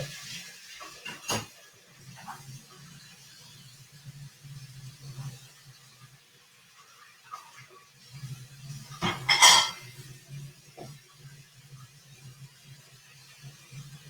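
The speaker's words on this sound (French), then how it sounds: "Je vais juste laver la petite cuillère et les deux bols." A small spoon and two bowls are washed in a kitchen sink: quiet running water with sparse clinks of cutlery and dishes, then a louder burst of clattering and splashing partway through before it settles again.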